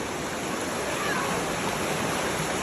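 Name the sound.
river water flowing during a river crossing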